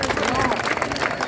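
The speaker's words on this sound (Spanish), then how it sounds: "Fuertes aplausos para nuestros candidatos." Audience at a democratic candidates' forum applauding the candidates, a dense steady wash of clapping with crowd noise, fairly loud throughout the short burst.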